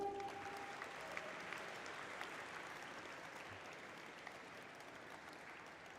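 Audience applause at a stock exchange listing ceremony, a steady, distant wash of many hands clapping that holds evenly throughout with no talk over it.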